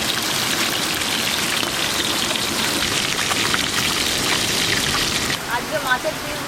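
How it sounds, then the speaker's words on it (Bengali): Tilapia fish pieces deep-fry in hot oil in a large kadai, giving a continuous close, rain-like sizzling crackle; near the end the hiss drops slightly and a voice briefly comes through. "এবার ছাঁকা তেলে লাল লাল করে মাছগুলো ভেজে নেব"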